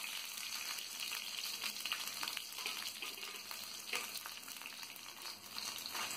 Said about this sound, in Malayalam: കാനിയ ശേഷം വെളുത്തുള്ളി ഇട്ട് കൊടുക്കാം